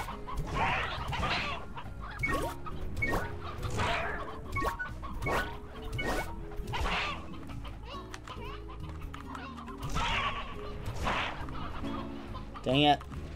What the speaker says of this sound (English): I now theoretically have roosters.